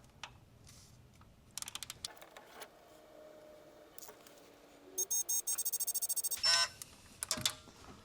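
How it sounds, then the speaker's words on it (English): A digital torque wrench beeps rapidly in short bursts as a bolt is tightened on a truck that has sat for six years, the beeps rising into a quick run of high chirps amid light shop noise. "I don't know why it starts beeping so early."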